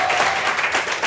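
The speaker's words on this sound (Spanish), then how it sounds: "Le damos un aplauso, por favor, para empezar." A short burst of studio audience applause on a Spanish television debate show, close, dense clapping lasting about a second.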